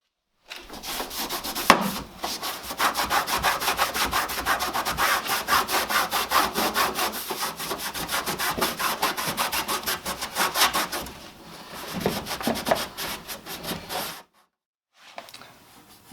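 Rapid rhythmic rasping of a file scraping across a metal weld on a G-body Cutlass repair, steady strokes for about fourteen seconds, then a pause and a brief final scrape.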